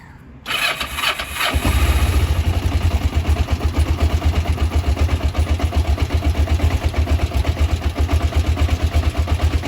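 A 1991 Kawasaki Ninja EX500 motorcycle engine cranks briefly and catches, then settles into a loud, close, steady rhythmic idle that runs on to the end.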